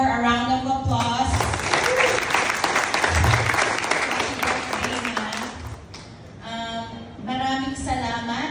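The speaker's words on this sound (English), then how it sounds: "let's all give her a round of applause" Loud applause from a crowd, clapping and cheering for several seconds, bracketed by a person talking before and after.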